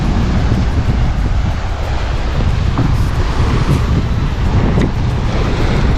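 Wind blowing at the seaside, a loud, continuous rush of broadband noise buffeting close to the microphone for the whole stretch, with no clear voices.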